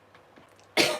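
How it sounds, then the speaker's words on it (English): A single sharp, loud cough bursts out at the end after a brief quiet, close to the listener. "One blinking horrible thing about a cough is that it interferes when you're trying to do stuff."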